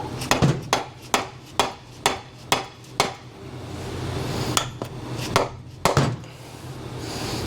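Sharp, loud hammer blows strike a heated Garelli SSXL moped engine case being split for porting and rebuild, about a dozen ringing metallic knocks, fairly regular at first, then a pause and a few more irregular hits.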